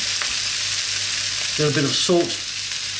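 Sweet potato stew ingredients sizzle steadily in a hot pan with bursts of scraping as they are stirred, while someone speaks briefly over the frying.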